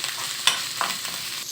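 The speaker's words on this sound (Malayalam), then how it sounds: "അങ്ങനെ എല്ലാം ഇട്ട് കൊടുത്തിട്ട് ഒന്നും കൂടി വാട്ടിയെടുക്കണം" Indian borage (panikoorka) leaves are stirred in a hot pan, giving soft scraping strokes over a quiet, steady sizzle, with no voices.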